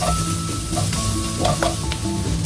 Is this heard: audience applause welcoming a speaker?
no